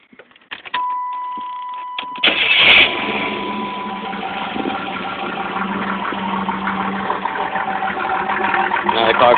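A 1988 Camaro engine cranks briefly and catches, roaring up loudly before settling into a steady close idle that runs on evenly.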